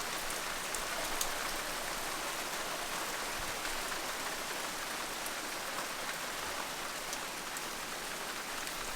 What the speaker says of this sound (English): The heavens have just opened. Perfect timing for some atmospheric reading. Can you hear the rain?